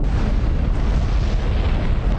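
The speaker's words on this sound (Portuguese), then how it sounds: "O clarão da explosão emitiu um calor radioativo que se espalhou na velocidade da luz." A deep, heavy explosion roar from the atomic bombing of Hiroshima, a loud sustained rumble filling the whole moment with no break and no voices over it.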